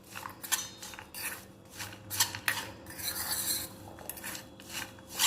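Potato chips and peanuts being tossed with powdered sugar in a bowl for a fasting snack, giving repeated dry scraping and clattering bursts close by, with no talking.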